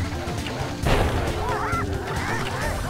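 Cartoonish roosters squawk and honk amid busy sounds in the video game Sly Cooper and the Thievius Raccoonus, with a sudden crash-like hit partway through.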